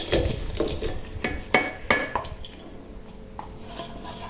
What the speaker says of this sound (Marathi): एका पातेल्यामध्ये हा गूळ काढायचा आहे